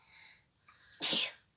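A single sharp sneeze from a young girl, preceded by a faint breathy intake, close and clear against an otherwise quiet room with no talking over it.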